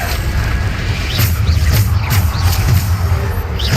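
A Bombarda blasting spell erupts in Hogwarts Legacy during a Niamh Fitzgerald trial, giving a sustained, heavy booming roar with several sharper cracking bursts layered on top, loud and near throughout.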